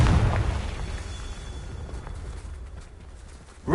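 A Confringo fire spell bursts in the video game Hogwarts Legacy, a deep booming explosion at the start that rumbles and decays over a few seconds before a fresh impact hits at the end.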